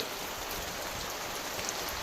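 Heavy, steady rain pours down during a monsoon downpour, a dense continuous hiss of drops hitting the ground with no letup and no voices.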